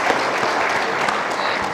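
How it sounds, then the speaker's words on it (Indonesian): An audience claps steadily and energetically on cue at a televised panel discussion, a continuous burst of applause from a sizable crowd. "Tepuk tangan dong"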